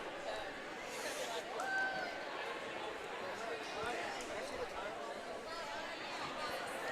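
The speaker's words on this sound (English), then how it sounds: "Good crowd of folks in attendance here tonight," Spectators at a swimming pool meet chatter in a steady, distant hubbub that fills the natatorium, with a couple of brief whistle-like tones rising above the murmur.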